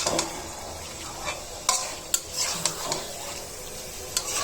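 About 1.5 kg of beef for tehari is stirred and mixed with spices in a pot, with scraping and several sharp metal clanks of the spoon over a soft sizzle.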